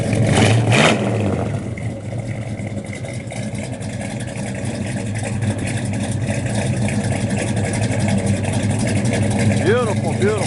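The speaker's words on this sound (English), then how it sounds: "It just sounds killer. Nice cam in it." A 1970 Chevrolet Chevelle SS 454 V8 with an aggressive cam rumbles steadily at close range, loud and continuous, with a voice talking briefly near the start.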